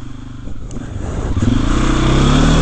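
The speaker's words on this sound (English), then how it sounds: "It's always disconcerting when you hear the engine go." A motorcycle engine close by on a deep-rutted byway in Surrey, its pitch climbing steadily as it revs and accelerates, growing louder toward the end, with no one speaking.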